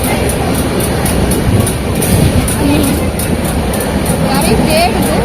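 A train rolls along the rails with a steady, loud rumble and faint rhythmic clatter, while people talk over the noise.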